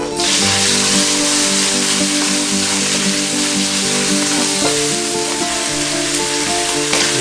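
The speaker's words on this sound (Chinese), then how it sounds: "这个肉煎一下" Meat searing in a hot pan at home, a loud, steady sizzle with crackling spatters that holds evenly throughout, with a few faint clinks of utensils and no talking.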